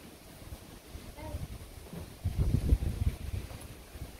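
Strong gusts of pre-rain wind sweep through a village in the late afternoon, a steady rushing roar with buffeting on the microphone that swells louder near the middle, alone with no speech.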